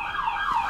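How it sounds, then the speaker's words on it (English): Police car horns honk and blare outside a tool workshop, a wavering siren-like tone heard briefly at moderate distance, steady and without talking. "Cop cars. Honking the horn."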